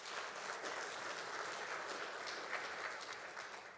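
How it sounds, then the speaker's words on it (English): Audience at a school district State of the District event clapping steadily and fairly faintly from a distance, a dense, even wash of applause with no voices over it. "Give them a big round of applause."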